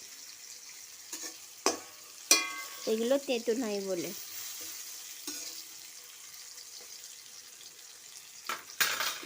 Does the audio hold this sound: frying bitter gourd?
yes